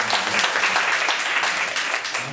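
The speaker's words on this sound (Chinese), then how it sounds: "所以请真的大家热烈掌声哦" Warm applause from an audience at a Taiwanese political gathering welcoming a city council candidate, dense loud clapping from many hands sustained throughout, no speech over it.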